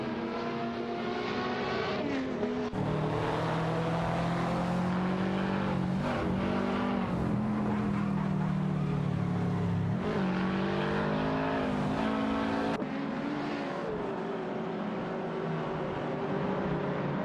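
Race cars in an AI-driven racing video game roar steadily, engines climbing and dropping in pitch through repeated gear changes, a layered, close, uninterrupted drone.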